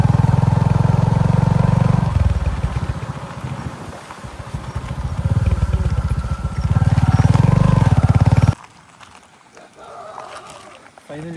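A motorcycle rides along a forest track toward a waterfall, its low engine drone rising and falling under a voice before cutting off abruptly, leaving quieter background.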